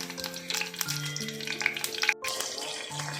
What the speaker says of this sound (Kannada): ಕರ್ಬೇವಿನ ಸೊಪ್ಪು ಹಾಕಿದ್ದೀನಿ ನೋಡಿ